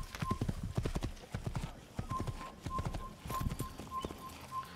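Rapid hoofbeats of a galloping horse in the video game Assassin's Creed, steady and close, with a short snort or whinny partway through.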